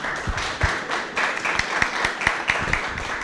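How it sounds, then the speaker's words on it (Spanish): Applause from a small audience at a local political debate, a short patter of clapping with some sharper individual claps standing out. "El aplauso para Oscar"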